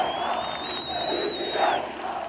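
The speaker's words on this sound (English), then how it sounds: "The crowd chanted for those who planned the coup to face the death penalty." A large crowd at a rally in Turkey chanting in unison, loud and sustained with swelling voices and a shrill whistle-like tone running over the roar.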